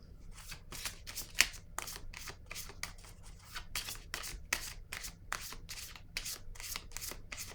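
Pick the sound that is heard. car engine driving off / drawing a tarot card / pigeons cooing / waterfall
drawing a tarot card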